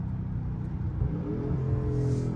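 A widebody Scat Pack car engine revs up with a rising whine while downshifting at night, steady and close, with no talking.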